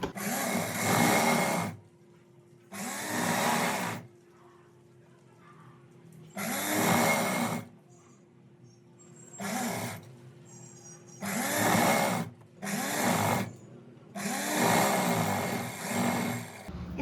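A sewing machine double-stitches the hem of a palazzo, running in repeated short bursts of close, steady whirring. Quiet pauses separate the bursts, with no talking.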